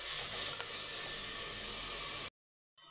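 Tomatoes and onions sautéing in a pan for duck curry biryani, a steady close sizzle and hiss throughout that cuts off abruptly near the end, then resumes faintly, with no talking.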